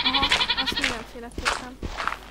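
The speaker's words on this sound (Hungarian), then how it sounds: "Tényleg kecskét tartsunk?" A goat in a video game gives a few short, nasal bleats in quick succession, close and clear, with people talking over them.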